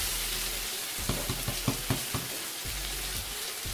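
Boiled rice is stirred into hot sugar syrup in a pan for zarda, with a steady sizzle and a series of soft scraping taps from the spoon, close and quiet.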